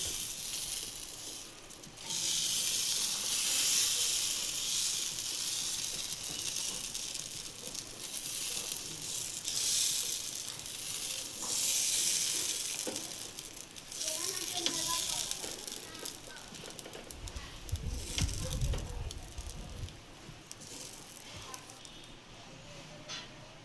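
Pesarattu, a moong dal dosa, sizzling on a pan over a flame, a steady hissing crackle throughout with a brief low rumble late on, beneath a voice talking.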